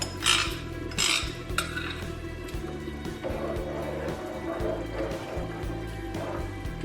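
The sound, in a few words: adding rice into the pot of lamb biryani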